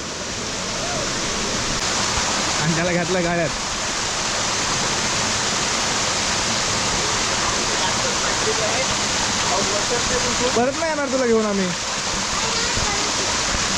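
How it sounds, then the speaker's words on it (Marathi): A waterfall at Zirad roars as a steady, loud wash of rushing water throughout, with people talking briefly over it twice. "हा धबधबा झिराटलाच आहे"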